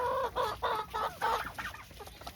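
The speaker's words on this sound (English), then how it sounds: "I have 40 chickens right now." Farm chickens, including silkies, clucking close by in a steady run of short calls, several overlapping, with a quiet outdoor background and no talk.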